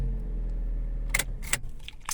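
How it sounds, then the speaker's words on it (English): Keys jangle before a 2006-2014 Vauxhall/Opel Corsa D is started with a newly programmed bladed key, with quiet clicks and the engine turning over into a low idling rumble, close by. "We can start the car"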